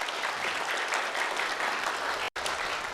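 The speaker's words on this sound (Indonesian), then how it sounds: "Kita boleh minta tepuk tangannya sekali lagi yang meriah untuk siang hari ini." An audience at a public debate between candidates for mayor and deputy mayor of Ternate breaks into dense, lively applause that stays steady and fairly close, cut by a momentary dropout near the end.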